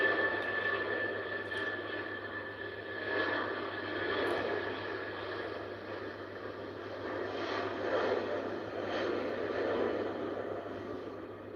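An airliner at Heathrow airport makes a distant, steady engine roar that swells and fades gently over several seconds.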